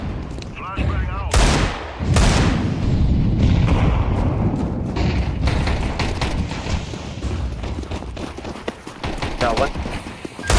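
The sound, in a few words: flashbang grenade going off in a shooter video game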